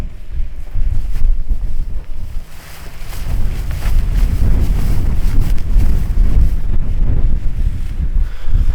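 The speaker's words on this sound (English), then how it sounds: "this wind's a little cold though" Cold wind gusts across open South Dakota prairie during a mule deer hunt, buffeting the microphone with a loud, continuous low rumble and no voices.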